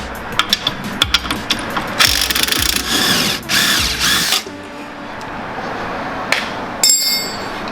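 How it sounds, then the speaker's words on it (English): A power tool removes the shock bolt while lowering springs go into a 2017 Camaro SS 1LE, with loud whirring bursts of the tool and sharp clicks, followed by quieter clanks and a final rattling burst. "And then we'll take the shock bolt out."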